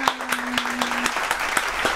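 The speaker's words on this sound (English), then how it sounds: "Everybody, give her a round of applause." A small group claps for a girl in a store, a steady patter of separate claps at close range, with a brief voice tone early on.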